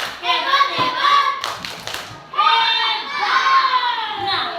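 Children in a classroom clapping a rhythmic cheer pattern in short bursts, their voices chanting along over the claps, close and lively with a brief pause midway.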